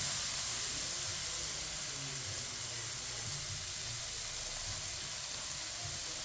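A kilo of grated carrots hits a hot pan of roasted semolina for gajar ka halwa, giving a steady, close sizzling hiss that runs unbroken, with no talking.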